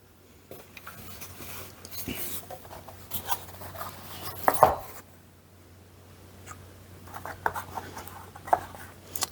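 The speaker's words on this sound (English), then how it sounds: "So just mix those all together." Dry ingredients for porridge oat bread stirred together in a bowl, giving a soft, quiet, continuous rustling and scraping with a few slightly sharper knocks, close by and with no talk.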